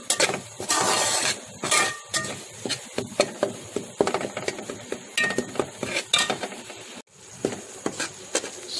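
Semolina roasts in a pan for halwa while a metal spoon scrapes and clinks against the pan in quick, uneven strokes, close and fairly loud, with no talking.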